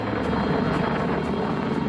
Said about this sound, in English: This is the Apache Longbow, the latest version of a military classic.